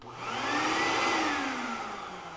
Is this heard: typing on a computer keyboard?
no